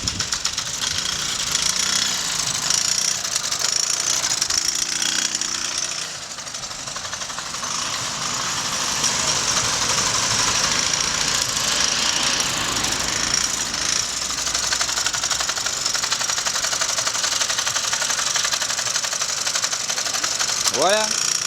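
A Solex moped engine is started and keeps running, giving a continuous buzzy, rattling mechanical drone close by, with a short rising whine near the end.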